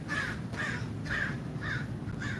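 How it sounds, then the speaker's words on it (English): Crows cawing outdoors, five harsh caws in a steady repeating rhythm, fairly close and clear over a soft background hiss. "Crows are laughing at me."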